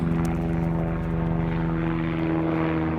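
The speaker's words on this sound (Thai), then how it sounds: "เครื่องบิน" Propeller airplane flying overhead on a seaside holiday outing, a loud steady engine drone with strong low harmonics that holds for the full three seconds, no talking.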